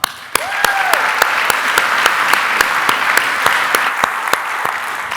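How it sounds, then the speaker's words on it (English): Loud, close applause at a corporate state-of-the-center address, with a few sharp, regularly spaced claps standing out over a steady bed of crowd clapping, plus a short whistle-like tone near the start. "please give yourselves a round of applause"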